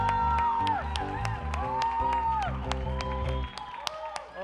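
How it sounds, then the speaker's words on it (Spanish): An audience applauds after a Christmas musical drama performance, with the clapping mixed in with loud music and voices before the music drops out near the end. "Un aplauso para David."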